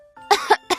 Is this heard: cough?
yes